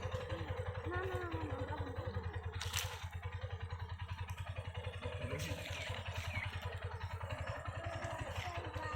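A motorcycle engine runs steadily as a learner rides in second gear, its low regular thrum continuous throughout, close by, with a voice speaking over it and some scraping clatter.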